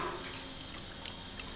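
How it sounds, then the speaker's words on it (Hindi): A household water tap runs steadily into a sink, a continuous hiss and splash with light dripping that stays even from start to finish and has no voices over it. "देखियो मैं अभी ना टैप ऑन करूँगी"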